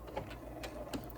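A sewing machine stitches binding on a quilted wall hanging, running forward and then backstitching. It gives a steady, close mechanical whir with faint rhythmic clicks over a low hum, and no voice is heard.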